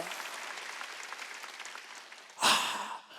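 Applause from a church congregation at a Wednesday worship service, a brief burst of clapping near the end that rises sharply and then fades, preceded by a low, dense crowd murmur.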